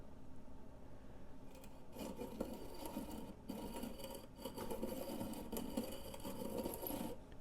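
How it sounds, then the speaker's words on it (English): A piston ring for a 2.4 SRT4 engine is ground square against the disc of a ring gap tool, producing a faint, continuous rasping rub in short passes with brief pauses, no voices. "now we got a ring gap tool, and the most important thing to do is to make sure you're keeping this square on your grinding disc"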